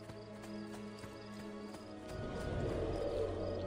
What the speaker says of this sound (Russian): Наша лошадь тут стоит.